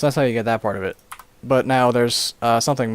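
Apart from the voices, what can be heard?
No everyday noise stands out behind the speech.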